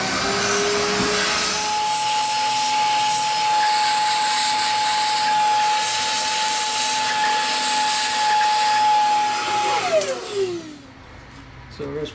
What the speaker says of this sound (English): Vacuum those out again.